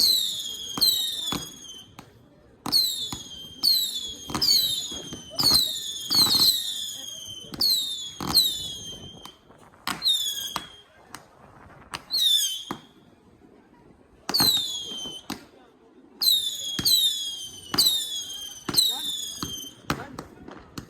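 New Year fireworks burst over Ilford Lane, London, in a rapid series of sharp, loud bangs and crackles across the whole stretch, with people talking and calling out beneath the explosions.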